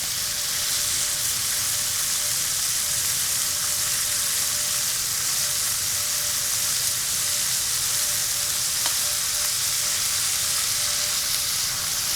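Soy-braised pork sizzling and browning in a pan, a steady, bright frying hiss with faint crackles throughout, close and continuous, with no voices.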